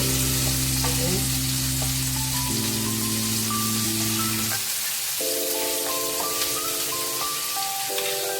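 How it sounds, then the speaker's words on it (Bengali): Chicken frying in a pan as a home dinner is cooked, a steady sizzle running throughout under faint tonal sounds, with no talking. "আর এদিকে আমার চিকেন ফ্রাইটাও অলমোস্ট ডান, অলমোস্ট হয়ে এসছে প্রায়।"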